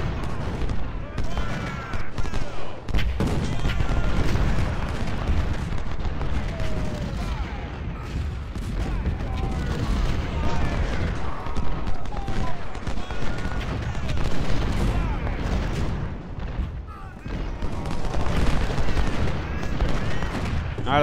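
Cannon and musket fire from the Civil War strategy game Ultimate General: Civil War, a dense, continuous battle din of overlapping shots and booms that rolls on steadily throughout, with someone talking over it.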